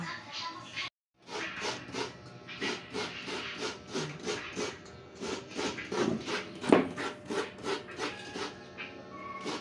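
Coconut is grated by hand, producing a steady run of rhythmic scraping strokes close by, with voices talking over the grating.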